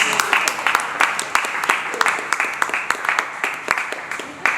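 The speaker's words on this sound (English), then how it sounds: "Can we give them a round of applause, please?" Small group of people clapping to welcome two charity walkers finishing a Dublin to Knock walk, scattered individual claps with an uneven rhythm over a few seconds, fairly close and moderately loud, with some background murmur.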